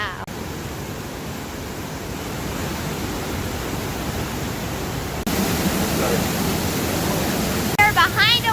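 A waterfall in New York roars as a broad, steady rush of falling water close by, getting louder partway through, with a voice briefly exclaiming near the end.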